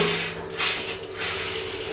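Hand shower in a bathroom spraying water at full force, a continuous close hissing spray with slight surges, no voices.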